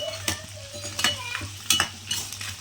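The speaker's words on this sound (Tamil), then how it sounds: "நல்லா வதக்கிக்கோங்க" Onions and dried red chillies being sautéed in a pan for a village-style Tamil mutton curry, with scattered scraping stirs and clinks of a utensil against the pan over a low steady background hum, no talk.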